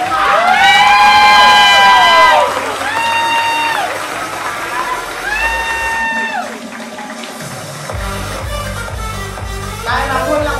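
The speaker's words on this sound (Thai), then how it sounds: "ขอเสียงปรบมือค่ะ" Audience at the Mister National Thailand 2016 pageant cheers and applauds a contestant, a loud crowd roar mixed with whoops and shouts, under amplified music with sustained melodic tones.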